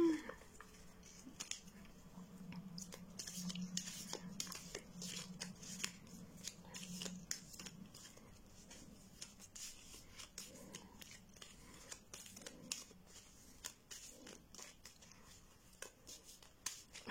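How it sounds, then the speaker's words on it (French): Tarot cards are shuffled by hand, a quiet, rapid string of crisp slaps and riffles running throughout, with soft speech in the background. "J'adore mélanger les cartes."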